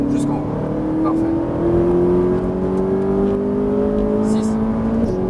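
A Ferrari 458 Italia pulls hard at full throttle, its engine note climbing steadily in pitch through a long rev, loud and close, with a driving instructor's voice speaking over the engine.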